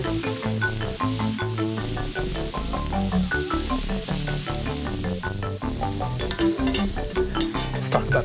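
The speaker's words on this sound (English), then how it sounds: "These shrimp are just about cooked." Shrimp grill over a fire pit grill with a continuous close sizzle and crackle, overlaid by a dense run of fast, regular clicking ticks.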